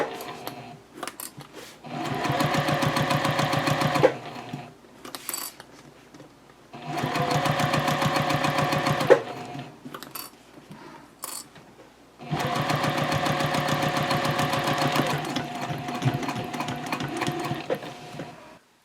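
A sewing machine sews a backpack in three long, steady runs of fast mechanical whirring, separated by short pauses with small clicks as the fabric is pivoted.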